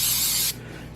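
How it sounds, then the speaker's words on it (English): An olive oil spray can lets out one short, bright aerosol hiss for about half a second, close to the microphone, then cuts off sharply into quiet. "next thing we want to do is going to take a spray can of olive oil."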